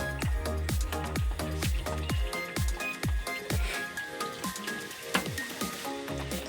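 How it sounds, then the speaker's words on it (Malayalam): Heavy rain pours down outdoors, drumming steadily on surfaces with dense, rapid drips and splashes throughout. The sound is close and continuous, with no clear voices. "ഇന്ന് നല്ല മഴയാണ് കേട്ടോ നല്ല മഴ എന്ന് വെച്ചാൽ നല്ല മഴയാണ്"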